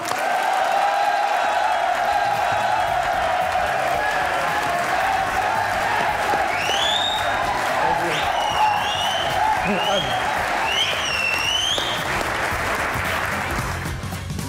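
A studio audience on a comedy talk show gives full applause for the guest actor Ahsan Khan, with crowd clapping and some cheering throughout, while the host speaks over it and whistle-like tones rise and fall in the middle.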